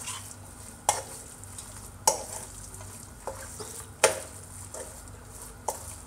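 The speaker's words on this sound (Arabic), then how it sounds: "نخلط كلش" A meatball mixture is stirred in a cooking pot, and a utensil knocks and scrapes against it about five times at uneven intervals over a faint, quiet background.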